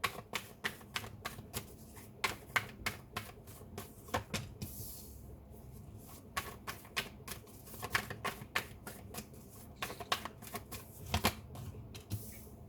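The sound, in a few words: shuffling tarot cards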